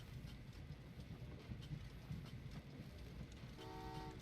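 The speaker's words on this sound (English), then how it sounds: "Let's send another passenger train up here." Passenger train running in the Train Valley 2 puzzle game, a soft continuous rumble of wheels on track that ends in a short horn toot, quiet, with no talking.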